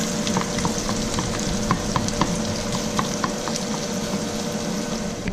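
Onions frying in a pan make a dense, continuous sizzle with rapid crackling pops, loud and close, with no voices.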